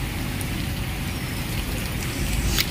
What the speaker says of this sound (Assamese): কিন্তু চাওক ইয়াত বৰষুণ কমিবলৈ লৈছে।